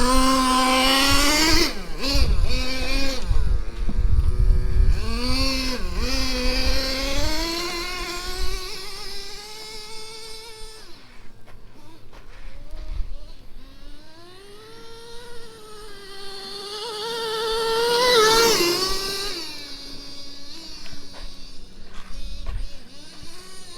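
A Traxxas T-Maxx 3.3 nitro RC monster truck engine revs loud and close, its buzzing pitch repeatedly climbing and falling in bursts, dropping to a lower idle midway before surging again.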